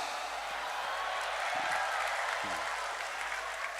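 An audience claps through a gathering with a religious preacher, a steady wash of applause with a brief voice breaking through partway.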